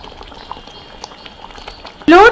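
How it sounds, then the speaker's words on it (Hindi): Gravy for stuffed eggplant curry bubbles steadily in a pan with soft, continuous close-up popping, and a voice cuts in loudly for a brief moment at the very end. "ग्रेवी में हमारा उबाल आ चुका है"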